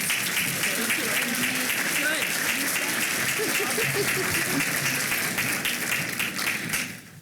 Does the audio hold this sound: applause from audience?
yes